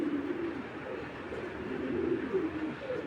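A female pigeon coos nearby, soft low rolling calls repeated several times against quiet background noise.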